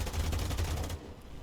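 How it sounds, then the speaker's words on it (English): Machine guns on an IAR-81C fighter in a flight combat video game fire in a rapid, even burst for about a second, then stop, leaving quiet engine drone. "I'm now out of cannons, but the machine guns are still capable."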